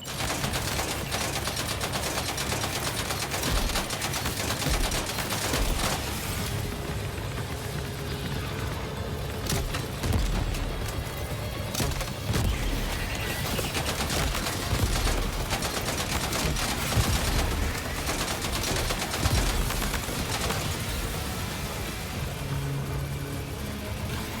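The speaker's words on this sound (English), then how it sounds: "We'll try the shotgun." Gunfire in the video game Death Stranding 2, shotgun blasts and other weapon bursts layered over a dense, noisy battle soundscape with engine rumble, loud and continuous throughout.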